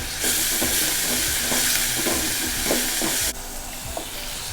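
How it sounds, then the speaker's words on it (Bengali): Ground spices, including garlic paste and cumin powder, sizzle in hot oil in a pan for a torrent catfish curry, giving a steady close hiss with stirring scrapes until the sound cuts down sharply. "এবার মশলাগুলোকে ভালো করে ভেজে নিতে হবে।"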